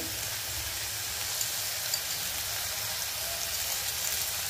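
Tomatoes fry in a pan with salt and turmeric, giving a continuous, even sizzle and crackle that runs without pause and with no talking over it.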